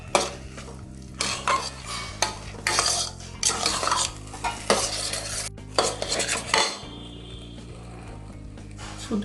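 A spoon clinks and scrapes in a pan while semiya halwa with cashews and cardamom is stirred. The strokes are irregular and come close together, with a faint sizzle underneath and no voices.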